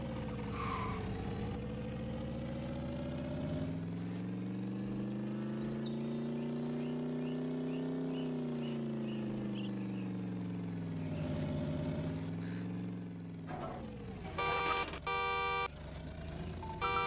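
A car engine in a driving game demo drones steadily and rises in pitch as it accelerates uphill, then dips and surges again, with clicks and game effects toward the end.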